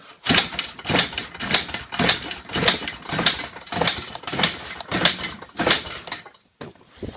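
Repeated kick-start attempts on a Yamaha Blaster ATV with no choke, about nine rhythmic broadband mechanical bursts in quick succession, each a sharp kick and brief sputter that never catches, close and fairly loud, ending in a short pause.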